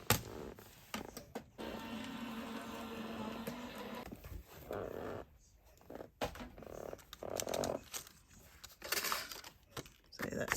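A die-cutting machine presses birthday-card paper from a 12x12 paper kit through warped cutting plates, giving a close, sustained grinding roll for a couple of seconds, followed by handling rustles and small clicks.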